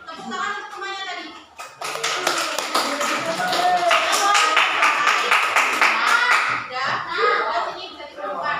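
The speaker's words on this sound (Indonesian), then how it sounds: "Tepuk tangan untuk temannya tadi." Children give a round of applause for a classmate, a burst of brisk, close hand clapping lasting several seconds between stretches of speech, with a young voice talking before and after.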